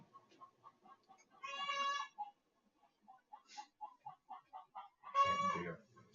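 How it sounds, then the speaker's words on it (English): A chicken gives two loud, harmonic squawking calls, with softer rhythmic clucks in between. The calls sound fairly close, and no one speaks. "Can you hear that chicken?"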